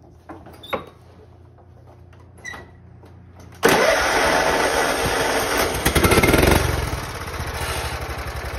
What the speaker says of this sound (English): So I'm gonna cold start it.